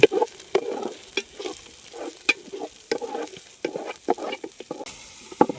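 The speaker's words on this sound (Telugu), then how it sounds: "మనం వేసుకున్న అల్లం వెల్లుల్లి పేస్ట్ బాగా వేగాక కొన్ని టమాటా ముక్కలు అయితే దాంట్లో వేసుకుందాం." Tomato pieces fry in ginger garlic paste, with a soft crackling sizzle beneath repeated scraping strokes of a spoon or spatula against the pan, close up with no voices.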